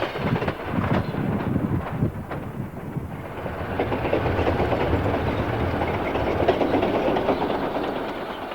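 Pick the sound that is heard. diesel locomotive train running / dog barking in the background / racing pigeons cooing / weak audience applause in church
diesel locomotive train running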